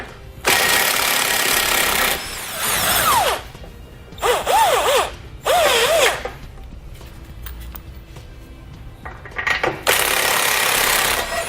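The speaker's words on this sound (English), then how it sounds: "So we'll grab an 18mm socket and we'll pull those out." A tool drives an 18mm socket to remove the bumper beam nuts on a 2018 BMW 3 Series, producing loud bursts of rattling ratchet noise separated by short pauses, with faint whirring in between.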